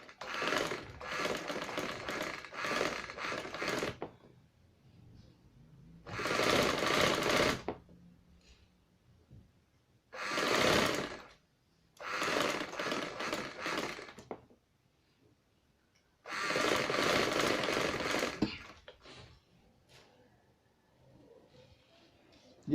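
Sewing machine stitching a bridal maxi in a stitching class, running in five separate fast clattering bursts of a few seconds each, with quiet gaps between them.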